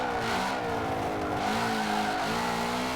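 A racing car in the Forza 7 video game on Xbox One X drives hard with a steady engine roar and continuous tire squeal as it skids, loud and close with no talking.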